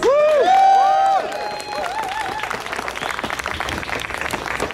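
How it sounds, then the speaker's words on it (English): A crowd at an outdoor rally to fix the TTC, in a parkette in front of Bathurst station in Toronto, breaks into steady clapping and cheering after a brief tonal squeal at the start. "Kind of applause, please."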